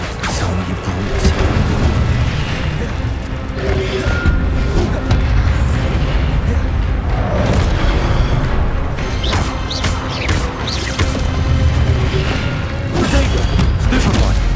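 Spell blasts during combat in Hogwarts Legacy, including Expelliarmus and Incendio, heard as a dense, continuous mix of booming impacts, crashes and magical bursts, loud and near, with a voice calling out at times.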